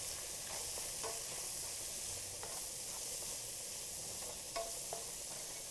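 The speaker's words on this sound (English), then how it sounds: "Give us a quick stir." Red and orange peppers sizzle steadily in a hot pan with pink salt while a utensil stirs them, producing a few faint scraping clicks over the continuous frying hiss.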